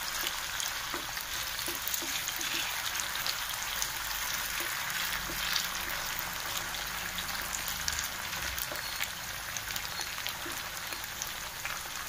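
Sliced potatoes for a Spanish omelette frying in a pan, a soft continuous crackle and sizzle of oil with scattered small pops, steady and fairly quiet throughout.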